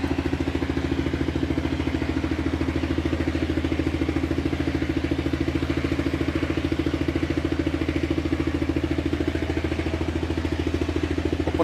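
A small pompong boat engine chugs steadily while towing a Hitachi ZX210 amphibious excavator on pontoons, with an even, rhythmic putter and mechanical clatter, staying at a constant moderate level throughout with no voices.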